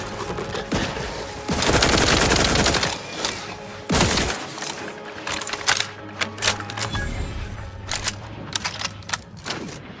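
Rapid gunfire from a heavy gun in The Outer Worlds 2, loud bursts of repeated shots that rattle on and off across the clip with dense crackling between volleys.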